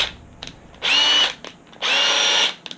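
A Milwaukee impact driver with freshly replaced brushes whirs in two loud, steady bursts of about half a second each, separated by brief pauses and small clicks, close up and alone.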